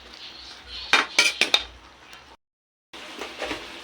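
Camansi, the breadfruit-like fruit, being mixed in a pan with dried fish, shrimp and chili, giving a few close clinks and scrapes of utensil against the pan, then a brief pause before softer handling resumes.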